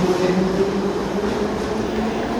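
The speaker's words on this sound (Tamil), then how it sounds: "அதே சமயம் 1970s யூஸ் பண்ண ரஷ்யன் மெட்ரோஸும் ஓடுதுங்க, சோவியத் யூனியன் மெட்ரோஸும் ஓடுது." An old Soviet-era metro train runs through the Tashkent subway, giving a steady, loud rumble with a droning motor hum throughout.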